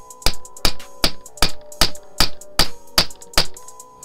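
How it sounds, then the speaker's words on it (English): A hammer pounding an old T-shirt folded on a hard surface to make a fishing towel: ten sharp, evenly spaced loud blows in steady rhythm, close up and with no talking. "you just bang the shit out of it with a hammer"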